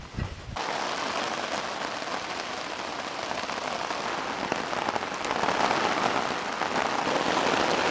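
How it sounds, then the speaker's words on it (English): Heavy rain drums steadily on a camping tarp and tent, a dense, close, continuous patter that swells slightly louder toward the end. "And we're starting to rain."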